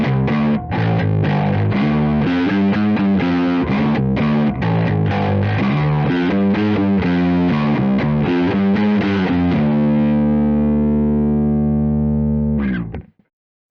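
Electric bass played through a Sonicake Matribox II Pro guitar amp and cab model, a distorted, gritty riff of rapid picked notes that ends on a long sustained chord, fading, then a brief final pluck.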